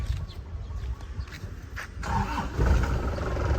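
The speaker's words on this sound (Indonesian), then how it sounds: "sekarang kita nyalakan mesinnya, yuk" A 2003 Isuzu Panther LS diesel engine is started, a brief starter whir followed by the engine catching and settling into a loud, rough, rumbling idle, heard close.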